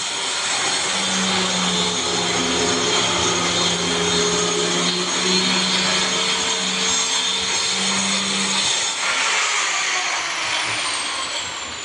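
A nano grinder machine works on white granite, giving a loud, continuous whirring hum that keeps a steady pitch for about nine seconds before the motor tone drops away and broadband noise remains.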